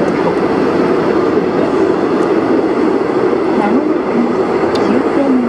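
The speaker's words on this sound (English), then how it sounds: "This is an express train." A loud, steady rumble and hum of an express train in Seoul running at speed, heard from inside the carriage with faint murmuring voices.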